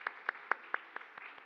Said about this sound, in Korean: 박수로 환영해 주시기